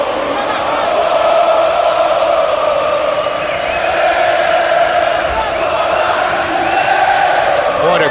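A large crowd roars and shouts at an MMA fight in Rio de Janeiro, a loud, sustained swell of voices with whoops rising and falling throughout.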